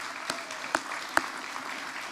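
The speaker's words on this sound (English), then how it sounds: "How about a round of applause for Scottsdale Community College?" A brief, thin patter of hand claps from an audience at a community college event, fairly quiet with a few sharper individual claps standing out over two seconds.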